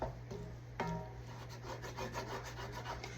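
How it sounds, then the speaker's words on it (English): Onions and flour are stirred and scraped in a pan for Southern-style cube steak gravy, making quiet close scraping and rubbing strokes in a loose rhythm over a low hum, with no talk. "Now I'm going to stir it and all that stuff."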